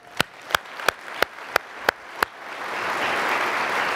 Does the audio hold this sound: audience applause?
yes